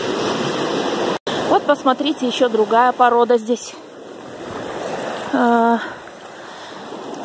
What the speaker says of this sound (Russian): надо как-то успевать, пока отходят волны, успевать пробегать.